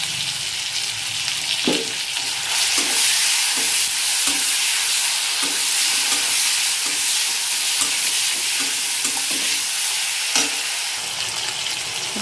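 Tomatoes sprinkled with a little salt sizzle steadily in a frying pan, a loud continuous hiss broken by repeated scraping knocks of a spatula stirring, with no talking.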